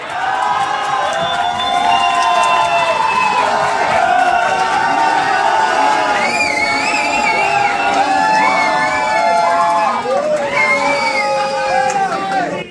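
A talent-show audience cheers and shouts loudly and continuously, with excited voices and whoops over dense crowd noise, mixed with what sounds like music or a lead voice throughout.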